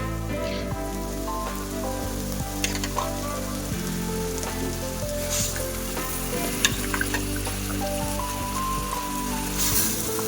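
Country chicken sizzles loudly in a hot pan, a dense steady crackle of frying broken by scraping stirs.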